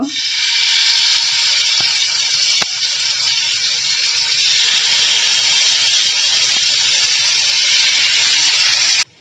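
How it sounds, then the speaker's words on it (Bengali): Beef boti kebabs on skewers sizzle in soybean oil in a hot pan, a loud, steady, close hiss that continues unbroken throughout, with a brief knock near the start and no speech. "এখন কাবাবগুলো আমি ভেজে নিব এর জন্য প্যানটা গরম হলে দুই টেবিল চামচ পরিমাণ সয়াবিন তেল দিব"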